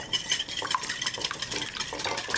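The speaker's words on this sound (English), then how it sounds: "it's 2 eggs, 1 egg yolk. We're going to whisk this." Two whole eggs and an egg yolk are whisked in a bowl, giving rapid, continuous metal-on-bowl clinking and tapping strokes up close, busy and rhythmic, with no talking.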